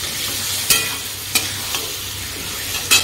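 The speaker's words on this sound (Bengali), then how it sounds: "আলুগুলো ভাজা হয়ে গেছে," Potatoes sprinkled with turmeric and salt fry in oil, giving a loud, steady close sizzle with a few sharp clicks of a utensil against the pan, without any speech.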